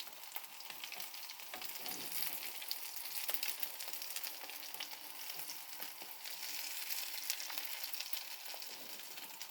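Aloo chicken kebab cutlets fry in hot oil in a pan, giving a steady crackling sizzle with small pops, moderately loud and continuous, with no voices.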